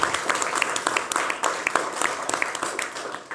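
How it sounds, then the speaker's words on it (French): A studio audience applauds a returning guest on a French talk show: crisp, separate claps from a modest crowd, fairly even in pace, heard at a slight distance throughout. "on peut l'applaudir"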